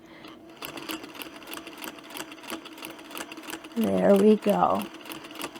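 Sewing machine stitching a fabric placemat, a rapid mechanical whir of stitches running steadily backward and then forward, close and clear, with a person talking briefly over it.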